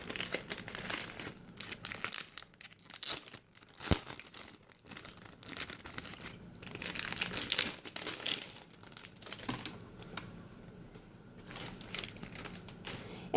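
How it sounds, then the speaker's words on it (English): Protective plastic wrap is peeled and torn off a 2020 planner, giving close, loud crinkling and crackling bursts in an uneven rhythm with short quiet gaps. "it does come in a protective plastic wrap"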